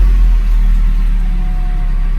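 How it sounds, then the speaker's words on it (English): A 2001 Mercedes SLK 170 with a BAS/ESP warning light fault (code C1142-1) runs with its engine idling cold, a loud, steady low-pitched hum and throb close by, with no talking. "Let's start the car."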